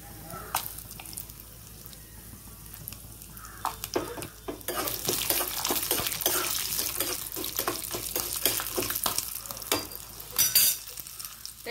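Unpeeled garlic cloves drop into a hot pan of oil and erupt into a loud, crackling sizzle that continues with sharp spattering pops, preceded by a few seconds of quieter clinks and stirring.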